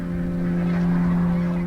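Migrating geese flying south from Svalbard in the Arctic, honking calls overlapping in a steady, loud flock chorus with a constant low drone underneath.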